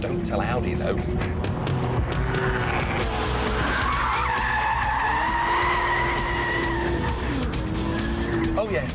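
A Vauxhall VX220 slides in a handbrake skid, its tires squealing loudly in long wavering wails over a constant engine drone, with someone speaking over the noise.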